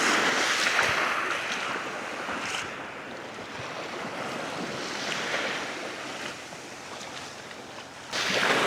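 Sea waves wash in over rocks at Teen Khaji Beach, with clear water running between the stones. The surf is a steady, loud broadband rush that swells and eases, and wind buffets the microphone throughout. No voices.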